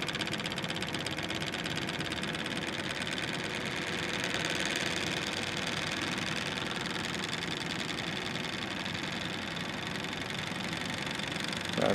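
Bedini North Pole motor spinning counterclockwise, a continuous close whirring hum with a fine rapid buzz that holds steady and rises slightly as it accelerates, with no talk.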